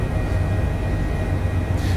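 An HPG H145 helicopter in Microsoft Flight Simulator drones with a steady, loud low rotor and engine rumble, continuous and even, with a faint brighter hiss rising near the end.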